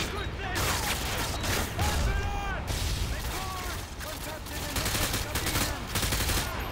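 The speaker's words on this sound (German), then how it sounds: "Ich knall alles ab, was da drin ist." Bursts of rapid gunfire crackle almost continuously in Call of Duty: Modern Warfare 2, with a few metallic clanks and someone talking in German over the shooting.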